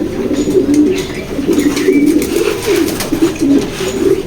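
Restless racing pigeons coo steadily in low, rolling phrases while being handled in a loft, close and loud, with faint rustling between calls.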